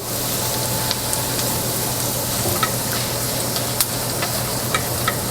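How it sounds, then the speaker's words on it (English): Tomato paste fries in a pan for a spaghetti and meatball sauce, a steady low sizzle and hiss with occasional small ticks and scrapes as it is stirred around. "Kind of fry that tomato paste a little bit."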